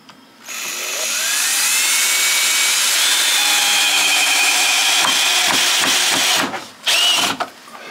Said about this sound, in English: You certainly notice the difference drilling into this compared to the softwood.